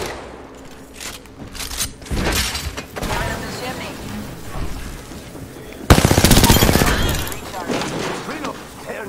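Automatic gunfire from a battle-royale firefight in Apex Legends, with dense rapid bursts throughout and a louder, sustained volley near the end, mixed with game sound effects and occasional talk.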